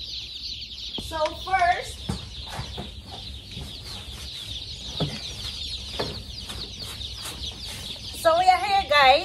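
Cornish chicks and a hen cluck and peep up close in a nursery pen. Short, bright chirping bursts come and go over several seconds amid light knocks, while a voice talks quietly in between.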